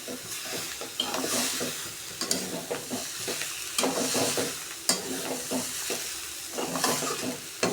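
Fresh coriander is sautéed over a low gas flame, producing a soft, steady sizzle with irregular scraping and stirring strokes in the pan and no talking.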